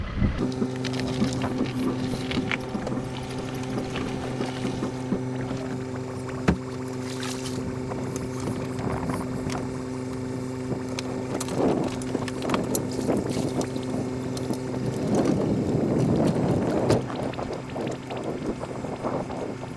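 A Quintrex Explorer Trophy 420 boat with a Yamaha F50HP 4-stroke outboard drones steadily with a low harmonic hum, mixed with wind buffeting and splashing water that grows rougher toward the end.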